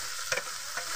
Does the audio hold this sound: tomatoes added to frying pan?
yes